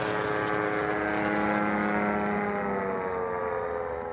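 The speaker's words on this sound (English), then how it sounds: "Guy flew right over us, low too. Going in for a landing, it looks like." A low-flying propeller airplane coming in to land passes overhead near Huron, Ohio, a loud, steady droning engine with a slowly sliding pitch, close and unbroken throughout, with no voices.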